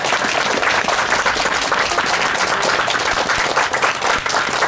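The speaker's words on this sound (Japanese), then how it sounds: "皆様盛大な拍手をお願いいたします。" Loud, full applause from an assembled crowd at a public housing model room event, continuous clapping at close range throughout with no voices rising above it.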